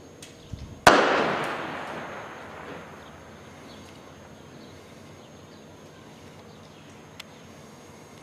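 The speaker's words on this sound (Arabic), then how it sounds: "قصف عنيف يستهدف حي الحويقة منذ الصباح الباكر" A single heavy artillery shell explodes in a city neighbourhood, a sharp nearby blast that rolls off into a long fading rumble, followed by quiet background with a couple of faint distant pops.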